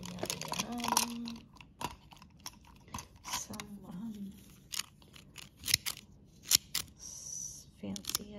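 Several short crisp snips of decorative-edge scissors cutting paper, close by, with a brief voice at the start and a few clicks in between.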